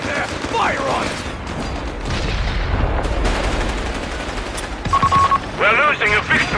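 Gunfire and battle noise in the World War II strategy game Company of Heroes 3: dense bursts of rifle and machine-gun fire with booms and mechanical clatter, under shouted soldier voice lines.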